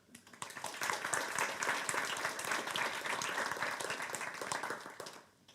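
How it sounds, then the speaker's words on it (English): Applause from the audience at a JavaScript developer meetup in Iceland: steady, moderately close clapping from a roomful of people, swelling quickly, holding for several seconds, then tapering off. "please give applause to Birkir."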